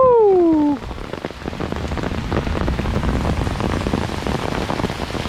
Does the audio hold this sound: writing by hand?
no